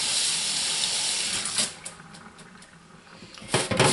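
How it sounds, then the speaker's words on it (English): A dirty brush is rinsed under a running tap, with steady broadband water noise for the first second and a half, then quieter splashes and a brief louder gush of water near the end. "I'm going to rinse out this brush since it was dirty."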